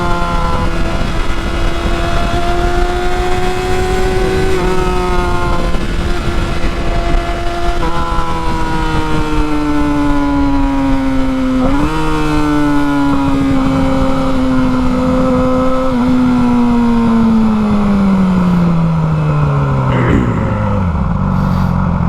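A Yamaha R6 sport motorcycle engine drones loud and close, its pitch climbing through several gear changes before dropping away as it slows near the end.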